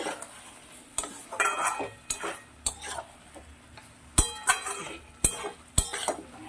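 A spoon clinks and scrapes against a metal cooking pot as ginger and green chili paste is stirred into mutton, giving sharp intermittent knocks at an irregular rhythm, close and fairly quiet, with no one talking.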